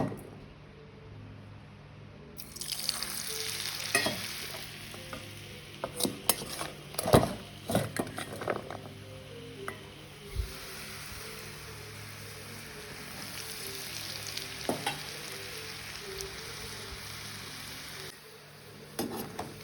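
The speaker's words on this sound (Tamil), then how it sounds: "எண்ணெய் நல்லா கொதிச்சுட்டுது இதை வந்து நாங்கள் இப்போ கஷ்டான போட்டுக்கொள்வோம்" Hot oil sizzles and bubbles steadily at low volume as peanuts deep-fry, with occasional clinks and scrapes of a utensil stirring in a pan.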